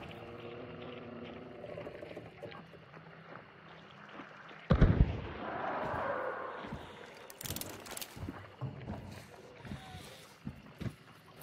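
A gunshot rings out in the video game Hunt: Showdown, a single loud sharp report with a rumbling tail, followed by scattered clatter and distant crackles.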